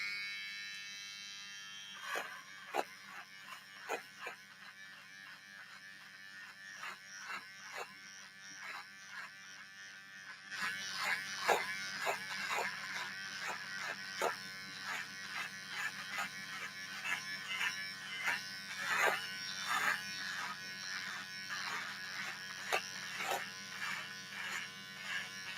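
Electric shaver buzzing steadily and close during a shave, the motor note shifting and growing louder partway through as it is pressed against stubble, with no talk.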